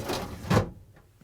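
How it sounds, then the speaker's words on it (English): A Frigidaire fridge's upper crisper pan is slid onto its rails with a short plastic scrape that ends in a louder knock, then a couple of faint taps. "Now we can install the crisper pan and slide it onto the rails here."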